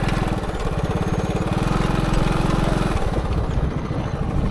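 A small motorcycle engine chugs steadily with a rapid, even putter at close range while riding out to the farm fields.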